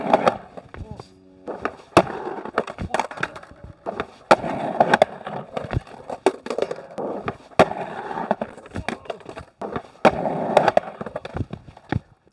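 Skateboard wheels and trucks clack and grind along a round-coping ledge at a skatepark, with repeated sharp impacts and scraping bursts spread through the run, loud and close.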